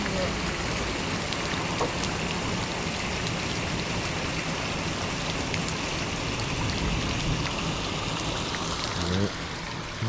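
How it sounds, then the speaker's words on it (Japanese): Heavy rain pounding on a camper van during a downpour in Nagasaki, a dense, steady wash of drumming drops heard from inside, continuous and fairly loud with no break. "こんな感じでね、めっちゃ降ってるんですよ。"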